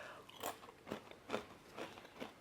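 Crunchy chips made from reused wraps are bitten and chewed up close, four or five distinct crisp crunches spaced about half a second apart, with no talking.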